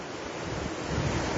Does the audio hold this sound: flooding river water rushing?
yes